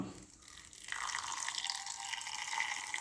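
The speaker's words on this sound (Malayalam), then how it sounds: "അരക്കാൻ ആവശ്യത്തിന് വെള്ളം ഒഴിച്ച് കൊടുക്കാം." Water runs steadily into a grinder jar with cumin for curry paste, a continuous hissing pour that starts partway in and keeps flowing without a break.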